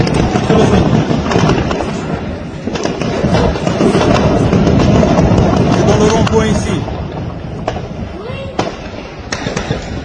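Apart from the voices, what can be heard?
gunfire at a roundabout in Conakry, Guinea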